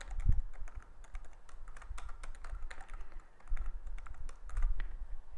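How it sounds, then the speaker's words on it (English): Keys on a computer keyboard being tapped to enter an encryption password, a quiet, irregular run of soft clicks with a few heavier thumps, close up and with no talking. "We're going to enter an encryption password."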